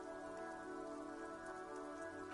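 Steady, soft rainfall from the video game Disco Elysium patters on surfaces in an even, continuous hiss with no voices.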